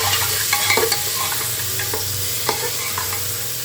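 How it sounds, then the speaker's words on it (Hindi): Vegetables frying in a pan give a steady close sizzle and crackle, with occasional utensil clinks and stirring scrapes, loud and continuous without talk. "सब्जियाँ तड़कती हुई, आवाज़ निकालती हुई"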